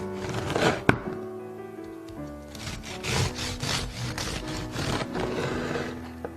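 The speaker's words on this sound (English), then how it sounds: "Let's take some slices of this sourdough cornbread with the crumble topping." A knife saws through a loaf of sourdough cornbread with a butter crumb topping, close up, in steady back-and-forth rasping strokes after a sharp knock near the start, with no talking.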